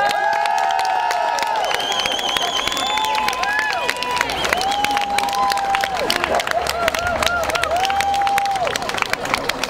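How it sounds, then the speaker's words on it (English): Crowd at an outdoor march against dolphin captivity in Brussels applauding and cheering children, dense steady clapping with raised voices and shouts throughout, close and lively. "Okay, applause for the children."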